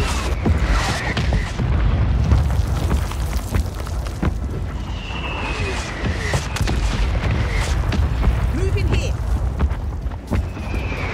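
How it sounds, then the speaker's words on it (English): Mortar strike explosions in the Warzone video game on Rebirth Island, heard as several booming blasts over a loud, dense battlefield din, with other game sounds layered throughout. "Requesting fire mission. Target marked. Solid copy. Mortar strike on the way."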